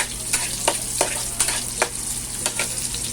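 Food frying in a pan while being stirred for a budget home-cooked meal, a loud continuous sizzle broken by regular scraping strokes of a utensil roughly every half second, with no talking.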